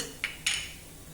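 Two quick, light metallic clinks of a spoon against a pan while cumin and coriander powder go into dal, close and crisp over a quiet background.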